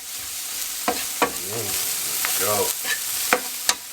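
Onions with a pinch of salt fry in a pan outdoors, giving a steady sizzle broken by several sharp stirring scrapes and clacks; a short spoken word is heard.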